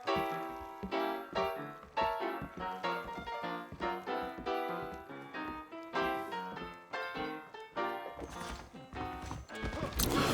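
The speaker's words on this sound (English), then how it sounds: "I got the horses saddled up and ready out front." Horse hooves clip-clop in a steady rhythmic pattern, close and fairly loud, continuing throughout amid other game sounds from Red Dead Redemption.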